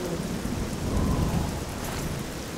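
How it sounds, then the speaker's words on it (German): Thunder from a lightning spell in the fantasy role-playing game Nehrim rolls as a loud, dense, continuous rumble with a rain-like hiss throughout, swelling slightly in the middle. "Du hast mich mit deinem verdammten Blitz fast schon wieder getötet, Callisto!"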